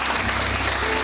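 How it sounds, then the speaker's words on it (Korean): A brief, loud burst of audience applause for Professor Kwon Il-nam at the Siheung Youth Foundation's fourth-anniversary vision ceremony, thick continuous clapping. "권일남 교수님께 다시 한번 큰 박수 부탁드리겠습니다."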